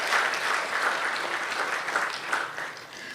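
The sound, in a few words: audience applause for Pandit Parasram's 75th birthday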